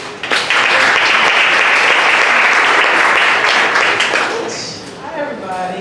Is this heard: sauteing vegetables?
no